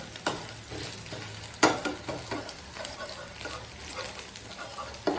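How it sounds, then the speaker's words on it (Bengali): Cooked egg is broken into chunks with a spatula in a hot pan, giving soft scraping and tapping over a steady low sizzle, with one sharper knock near the start, close and moderately quiet. "আমি এখন ডিমটাকে একটু টুকরো টুকরো করে নেব।"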